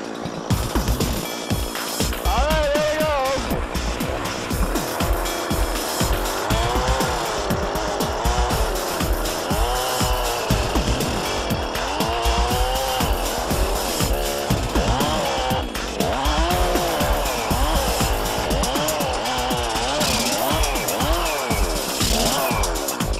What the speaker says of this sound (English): let's see if we get the saw fired up here and I'll show you how this baby will drill a hole